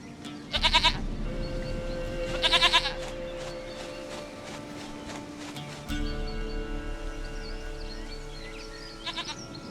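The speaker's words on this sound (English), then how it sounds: "Goat of mine, dearest," A goat in The Witcher 3 video game bleats in several short, wavering calls spread over the stretch, loud and close, with quiet ambient tones beneath.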